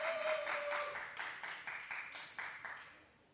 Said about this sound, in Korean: 사회에 박수 안 칩니까?